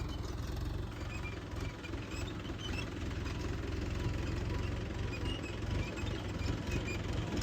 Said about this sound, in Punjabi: ਇਹਨੇ ਵੀ ਪੂਰਾ ਟਰੈਕਟਰ ਚਲਾਇਆ ਪਿਆ